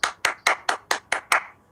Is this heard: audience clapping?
yes